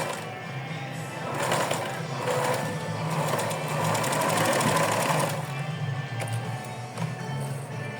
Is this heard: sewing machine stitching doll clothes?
yes